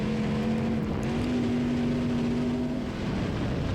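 A race car engine holds high revs close to the rev limiter during a test and tune session, a loud, steady high-pitched whine that wavers slightly as the car comes off a corner onto the straight.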